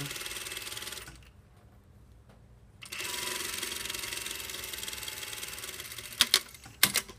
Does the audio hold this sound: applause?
no